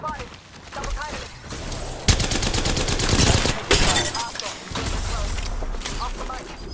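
Gunfire in the battle royale shooter Apex Legends, bursts of rapid automatic shots with some louder blasts, close and loud, mixed with game sounds while voices speak over it.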